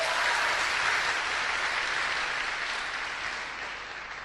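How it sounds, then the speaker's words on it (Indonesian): Warm, dense applause from an audience at an Indonesian business seminar rises at once and holds steady, fading slightly toward the end, with no voices over it. "Beri aplaus yang sangat meriah kepada Unicorn."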